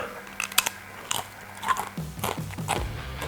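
Crunchy bites into a large, slightly reheated KFC wrap with garlic sauce, several sharp crackling crunches close to the mic followed by chewing, with no talk.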